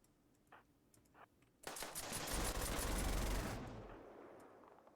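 Video game gunfire in Rimworld, a rapid automatic burst rising suddenly and rattling for about two seconds before fading out, loud and alone after a couple of faint earlier clicks.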